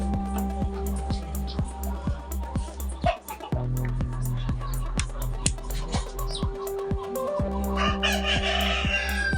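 Broiler chickens in pens at an agricultural research institute, a steady clucking flock with occasional crowing, set against a continuous low mechanical hum and repeated rhythmic clicks, close and fairly loud throughout.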